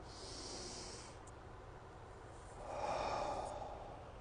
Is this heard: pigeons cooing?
no